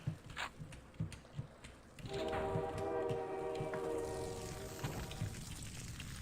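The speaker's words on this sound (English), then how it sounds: "I must stop this train." A train rolls along in the first-person shooter Blood, first as sparse clunks, then a loud, steady rumble with sustained horn-like tones that slowly fade.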